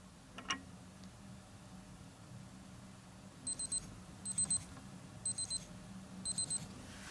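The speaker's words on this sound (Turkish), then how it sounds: "Hemen alarmı ötmeye başlıyor. Gördüğünüz gibi aynı zamanda titriyor da." Cookoo smartwatch alarm sounding in four short, evenly spaced bursts of rapid high beeps, fairly faint and close in a quiet room with a soft hum beneath.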